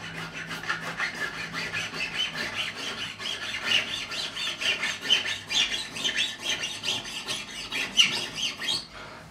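Hand filing of the fret ends to set a bevel on a Fender Standard Stratocaster during a refret, heard as a steady run of close rasping file strokes with no talk.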